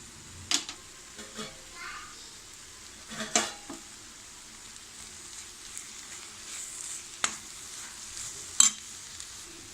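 Egg bhurji with garam masala being stirred in a pan, a low, steady frying sizzle broken by several sharp scrapes and clacks of the spoon against the pan, spaced irregularly.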